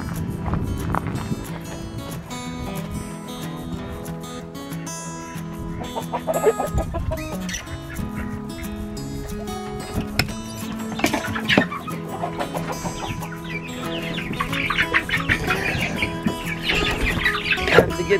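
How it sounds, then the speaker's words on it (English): Several free-range chickens cluck and murmur continuously close by, with occasional louder squawks and some rustling movement, no talking. "The chickens are loving the free range."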